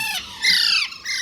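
Alexandrine parakeet chicks squawk loudly and close, letting out three harsh grating calls in a row with short gaps between them.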